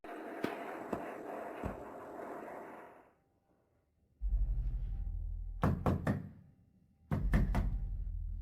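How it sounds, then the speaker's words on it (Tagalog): Knocking on a door late at night: two separate bursts of three quick, loud, close raps each, coming after a stretch of noise and a short silence. "Kumakatok ka ng? Hating gabi."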